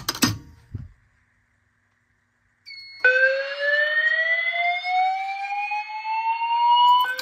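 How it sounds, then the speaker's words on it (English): Voice evacuation fire alarm system being activated during a test: after a brief click and silence, a loud electronic tone starts and sweeps slowly upward, sustained for several seconds and close by. "gonna be playing from the fire alarms, so we'll go ahead and activate the system"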